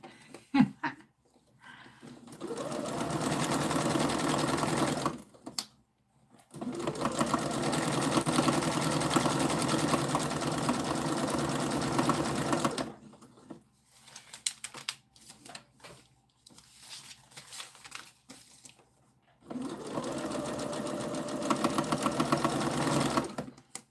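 A sewing machine stitches in three long, steady runs separated by pauses, with quieter handling sounds in between. The setting is a casual sewing session, and the machine is close and fairly loud.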